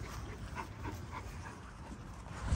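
Dogs make soft yips and faint whimpering sounds, brief and irregular over a constant background rumble, with no talking.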